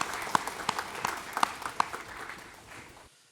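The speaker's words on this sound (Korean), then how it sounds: "박수로 하나님께 드리겠습니다." A few scattered, crisp claps from a church congregation during a Sunday worship service quickly thin out and fade into quiet.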